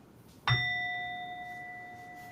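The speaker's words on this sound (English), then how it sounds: "the meditation will start with the on and off with the sound of the gong" A single gong is struck to open a meditation session, a clear metallic strike followed by a long, sustained ringing tone that slowly fades over two seconds in a quiet room.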